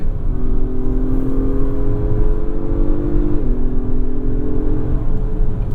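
A 2025 Acura MDX Type S engine droning loud and steady from inside the cabin, a smooth hum that holds pitch, then steps down briefly as if shifting and carries on, with no talk.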